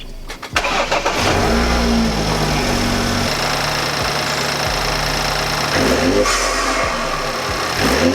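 A BMW F30 with a new intake setup starts up under an open hood. The starter cranks briefly, the engine catches with a loud roar, and it settles into a steady, close idle with a revving blip near the end.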